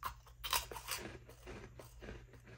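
Close crunching and chewing of Andersen's freeze-dried candy, a run of crisp bites at the start giving way to steady mouth-chewing noises, with no talk.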